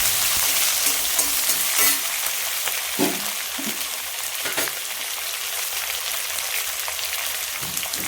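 Vegetables sautéing in a pan for a South Indian ivy gourd poriyal: a continuous bright hiss of frying, like light rain, with a few soft stirring knocks and scrapes, close and fairly loud, no talking.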